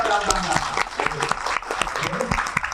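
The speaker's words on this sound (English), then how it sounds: "Give them a round of applause" A group claps for its group leaders during a workshop session, with scattered, uneven hand claps mixed with voices and talk.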